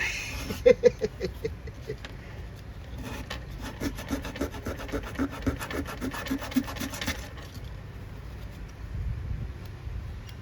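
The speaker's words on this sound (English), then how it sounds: "Let's go for a steady grind." Small hand filing and grinding on a scratch-built scale model parang machete for a jeep diorama: quick rasping strokes in a steady rhythm, close up and fairly quiet, easing off toward the end.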